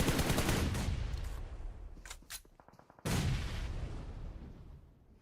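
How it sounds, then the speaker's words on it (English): Grenade blasts and gunfire from a PUBG Mobile esports match, heavy bursts of explosive noise with rapid crackling fire, a brief lull of sharp snaps, then another loud burst fading out. "So many wasted nades."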